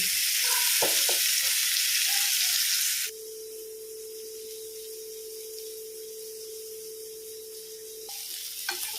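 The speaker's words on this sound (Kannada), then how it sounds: "ಒಂದು ಸೈಡ್ ಫ್ರೈ ಆದಮೇಲೆ ಜಾಗ್ರತೆಯಿಂದ ಟರ್ನ್ ಮಾಡೋದು" Food frying in a pan and turned over carefully: a loud hiss with clattering turns first, then a quieter steady sizzle under a constant electronic hum, ending in small knocks.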